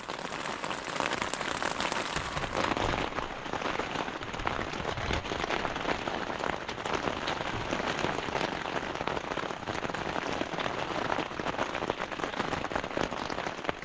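Heavy rain pours down on a forest campsite beside a small river, a dense, constant hiss of drops pattering on surfaces close by, with no voices.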